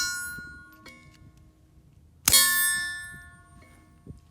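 A single loud metallic clang with bright ringing from handling a TX22 pistol fitted with a forced reset trigger while a full magazine is loaded, amid faint clicks and light handling noise before and after.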